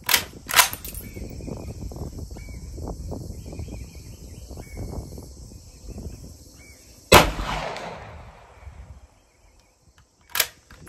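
A 300 Blackout rifle fires unsuppressed through a muzzle brake, giving sharp, loud reports: two close together at the start, another around the middle with a ringing decay, and one more near the end. The shots are heard outdoors with quieter background noise between them.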